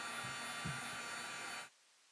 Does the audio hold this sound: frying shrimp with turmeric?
no